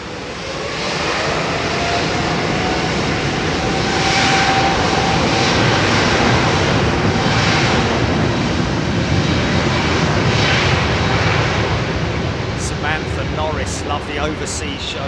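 A British Airways airliner departs London Heathrow bound for Seattle, its broad jet roar loud and steady for the whole stretch, swelling slightly midway, while someone talks over it.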